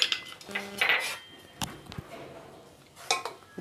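A spoon stirs boiling milk and water with ajwain in a metal pot, giving a few close, bright clinks and scrapes against the pot in short bursts separated by quieter gaps.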